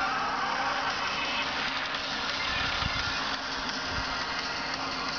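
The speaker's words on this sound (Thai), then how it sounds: "นี่จะเกมใหม่เลยภาค8รถแข่ง" Steady engine drone of a race car in a mobile racing video game, a continuous loud mid-pitched hum with little variation, playing alone without talk.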